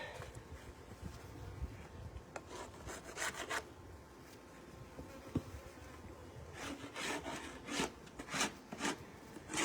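Honeybees buzz and drone steadily during a hive installation with an entrance reducer fitted, the soft hum broken by scraping and rubbing sounds of wooden hive parts being handled close by.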